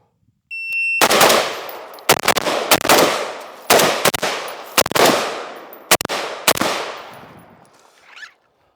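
Rapid bursts of rifle fire from a Remington 597 semi-automatic .22, shot outdoors in about six quick clusters of sharp cracks, loud and close, each trailing into a decaying echo, with no talking.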